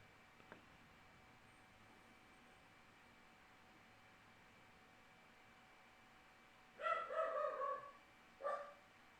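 A dog barks in a short burst of several quick, fairly loud barks late on, then one more bark, after a long stretch of faint room hiss.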